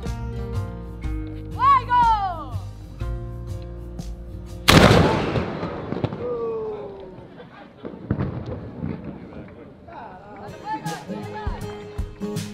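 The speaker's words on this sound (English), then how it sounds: "volunteers dressed as colonial Spanish soldiers who will fire a replica 6-pounder cannon" A single loud blast from a replica 6-pounder cannon booms and echoes away at Castillo de San Marcos, St. Augustine, following a crowd of voices and a whistle-like call, with chatter resuming afterward.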